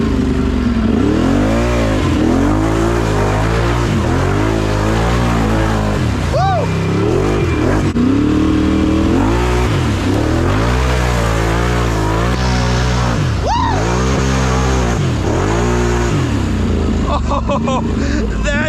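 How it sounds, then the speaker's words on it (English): A Can-Am four-wheeler engine revs loudly and continuously while being driven, its pitch rising and falling through repeated throttle surges, close and dominant throughout. "I don't want to overdo it the first time I drive it, because I've never driven a Can-Am"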